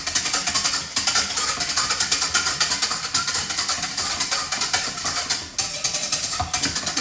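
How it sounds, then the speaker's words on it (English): Rapid whisking of hollandaise into a foamy mixture, a dense, even ticking of strokes that runs on close and loud with only a couple of short breaks, no talking. "There's a lot of whisking in this."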